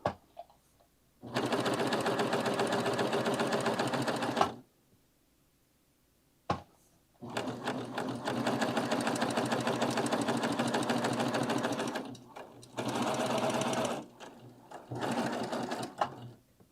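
A Baby Lock serger runs in several loud bursts separated by pauses, its fast mechanical whir starting and stopping repeatedly as short runs of stitches are sewn.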